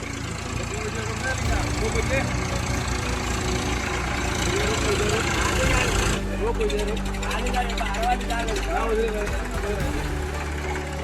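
A tractor engine runs steadily at a village pond during alleged illegal digging, a continuous loud low rumble throughout, with people talking over it.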